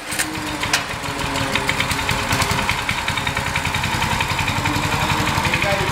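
Honda 5 HP petrol engine on a power trowel starting up and then running with a steady, loud, rapid chugging pulse close by.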